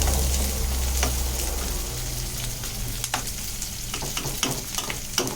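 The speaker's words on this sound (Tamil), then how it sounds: "இப்போ இந்த வெங்காயம் நல்லா வதங்கணும்." Small onions (shallots) sizzle steadily in a pan for a Tirunelveli-style vendakkai kara kuzhambu, a dense continuous frying hiss with occasional stirring clicks and scrapes; a low hum underlies the first couple of seconds.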